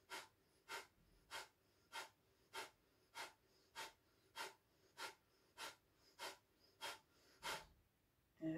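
Breathing during a yoga sound session: about thirteen evenly spaced, forceful breaths in a quick, regular rhythm, close and alone with no talk.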